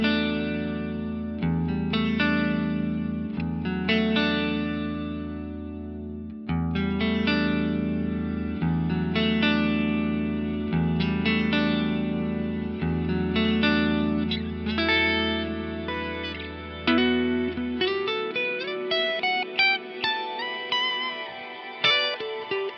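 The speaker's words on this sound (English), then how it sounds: "Let's just hear the reverb on its own, still the rich hall type, then I will bring in this reverb pre-swell in the mega tap delay." A rich hall-type reverb effect rings out over sustained chords, with a reverb pre-swell from a mega tap delay blooming into a glossy ambient wash toward the end, smooth and spacious with no voices.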